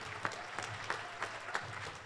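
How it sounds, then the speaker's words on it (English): Scattered applause from a luncheon audience at a membership meeting, a small group clapping with a few sharper peaks, fairly quiet and without speech. "he deserves a round of applause for his leadership"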